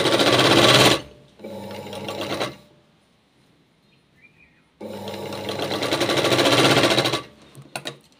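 A sewing machine stitches a cross strip for a katori blouse in two loud, steady runs of rapid mechanical chatter, separated by a quiet pause and ending with a few short clicks.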